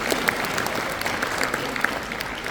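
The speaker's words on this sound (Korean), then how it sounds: "예, 박수 부탁드리겠습니다." Applause at a year-end gathering of a Daegu–Gyeongbuk hometown association, held in a hotel ballroom in Jamsil, Seoul. The clapping is steady and moderately full throughout, the crowd sound spread across the room.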